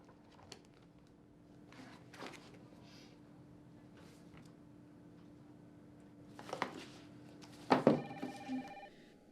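Telephone ringing in a quiet indoor room, with a couple of short bursts near the end over a faint steady hum and scattered soft background sounds.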